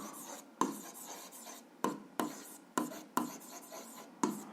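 A hand writes out an algebra exercise solution on paper, with soft, close pen strokes and scratching broken up by several sharp taps spaced about a second apart.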